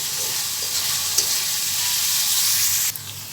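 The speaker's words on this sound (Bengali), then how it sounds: "ভিনেগার অ্যাড করে দিলাম। দিয়ে ভালো করে সবজির সাথে মিশিয়ে নিচ্ছি।" Vegetables are stir-fried with vinegar in a pan, giving a steady, close hiss of sizzling with light stirring that runs unbroken and then drops off abruptly near the end, with no one talking.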